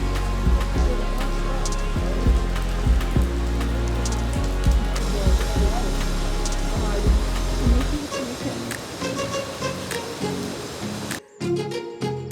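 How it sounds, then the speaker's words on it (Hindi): Rain falls outdoors at Kedarnath, a steady wash with close thumps and knocks from an enclosure. Near the end it cuts out briefly and returns, and no voices are heard. "एंड तुरंत से बारिश होना स्टार्ट हो गया।"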